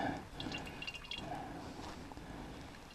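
Summer diesel fuel pouring out in 16-below cold, a faint, thin trickle and dripping of liquid with soft irregular splashes, quiet and close.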